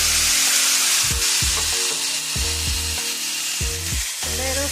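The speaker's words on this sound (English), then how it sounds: "Now we're going to add in our petite diced tomatoes" Petite diced tomatoes go into a hot pan for a chili mac bake. A steady loud sizzle runs the whole way through, broken by repeated scraping and stirring knocks from a utensil against the pan.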